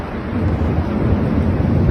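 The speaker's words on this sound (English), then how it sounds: "Watch this storm unfold down this guy's street." A thunderstorm moving in over a residential street: a steady, loud wash of rumbling, wind-blown noise, like heavy rain and thunder, continues unbroken for about two seconds with no speech.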